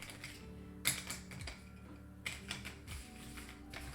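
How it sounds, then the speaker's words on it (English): Cardboard Suburbia board game tiles being shuffled by hand on a table, quiet scattered clicks and taps with a few sharper knocks, close and soft. "The only thing about the tiles is that you have to shuffle them"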